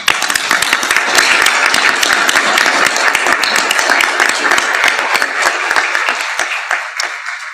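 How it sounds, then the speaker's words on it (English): Dense applause from delegates in a conference hall at an international council meeting, many hands clapping loudly and steadily, then thinning out toward the end. "I think we should all give him a big hand of applause"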